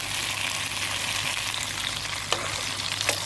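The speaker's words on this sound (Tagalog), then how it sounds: "Haluin lang guys" Fried eggplant and fried egg are stirred together in a sizzling pan for an eggstick dish. A steady, close frying hiss carries two faint utensil scrapes.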